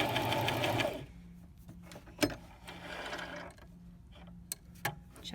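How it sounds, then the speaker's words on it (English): A home sewing machine runs a short test stitch on fabric for a fitted face mask, a dense rapid whir for the first second, then stops, leaving soft clicks and a few sharp taps close by. "I'm back at my sewing machine again"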